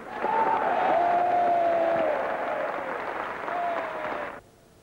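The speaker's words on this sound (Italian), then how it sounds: "Gli hanno tributato un applauso che è durato quasi quattro minuti e mezzo." Dense, sustained applause from a large crowd in the Capitol chamber gives Ronald Reagan a standing ovation, continuing steadily for several seconds with a faint tonal whine underneath before cutting off abruptly.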